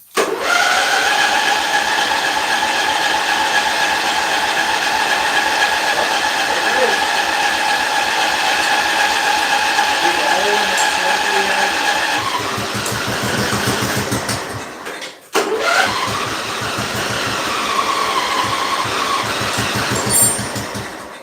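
A car engine idles with a steady, loud hum that drops briefly near the end before picking back up, with voices faintly under it.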